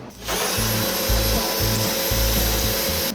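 A motor drives a long flexible drain-cleaning shaft into a clogged sink drain pipe with steady grinding and rubbing, broken up by rhythmic low thumps as the cable feeds in.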